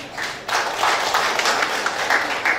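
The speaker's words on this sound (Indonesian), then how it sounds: "Ya, kita beri aplaus untuk dia." Audience at a nursing diploma graduation ceremony in Indonesia bursting into applause, dense clapping that swells after a brief lull and carries on steadily, fairly close and loud.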